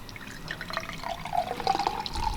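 Water poured into a damaged engine valve seat on a ute build runs straight through, a soft trickling and dribbling with faint drips, close and steady with low workshop noise behind.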